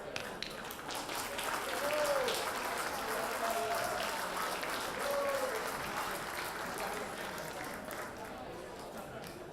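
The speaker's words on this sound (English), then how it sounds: "I'd like all of us to stand up and give Wade Green applause" A standing audience at a Longhouse 20th anniversary gathering gives a fairly soft, sustained round of applause from across the room, swelling slightly and then holding steady, with faint voices and murmurs underneath.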